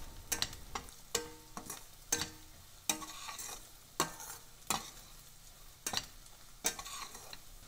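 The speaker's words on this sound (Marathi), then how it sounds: "मिक्स करूया आणि परतून घेऊया।" Aubergine curry with Kashmiri red chilli powder stirred and sautéed in a kadhai, giving a series of rhythmic spoon scrapes and knocks over a soft, steady sizzle, close and moderately loud.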